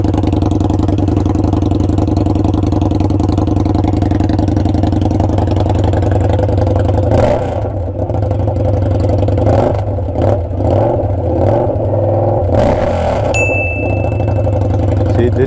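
Indian Scout motorcycle fitted with a 2-into-1 exhaust runs loud and close, a deep steady engine rumble with a few sharper blips of throttle toward the end.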